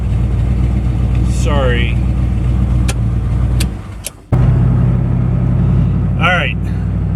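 A Ford Bronco engine runs at a steady low idle close by, dipping briefly as it is shut off and restarted mid-way, with a voice talking over the rumble.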